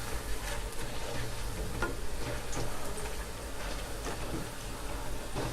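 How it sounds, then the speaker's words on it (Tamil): Green gram pakoda fry in a pan of hot oil, a soft, continuous bubbling sizzle with faint crackles, steady and fairly quiet throughout. "ஒரு பக்கம் வானல் வச்சு எண்ணெய் சூடானதுக்கப்புறம் பக்கோடாவை போட்டுக்கலாம்."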